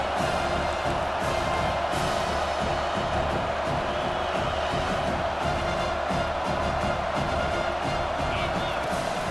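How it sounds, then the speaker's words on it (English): Stadium crowd in a college football video game roars in a steady, dense wash that stays loud and unbroken throughout, with no clear voice above it. "The roar of the crowd trying to fuel this defense to keep them pinned in their own end."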